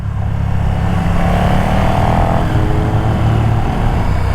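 A KTM Superduke 1290 EVO naked motorcycle accelerates hard in first gear with a quickshifter, its loud, close engine roaring continuously through rapid, crisp upshifts, with no speech.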